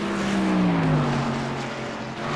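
Stock car Camry engine at a racetrack, a loud continuous drone whose pitch slides gradually downward as the driver clutches in entering a corner.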